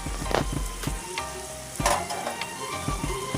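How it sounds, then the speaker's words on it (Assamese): Kabuli chickpeas frying in a pan, a continuous close sizzle broken by repeated scraping strokes and rattling as they are stirred. "লৰাই থাকিব আৰু ভাজি থাকিব।"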